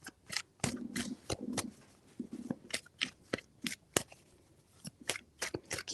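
Tarot cards are shuffled in quick, crisp riffles and taps, a series of sharp papery snaps and flutters at close range, fairly quiet with irregular rhythm.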